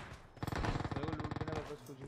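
Rapid automatic gunfire in PUBG Mobile, a dense burst of shots lasting over a second, loud and close, with faint talk around it.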